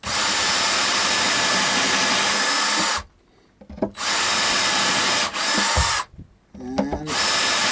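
A power drill whirs loudly in three long bursts, boring into an electric guitar neck for hex bolts, separated by short pauses with light handling noises, close up.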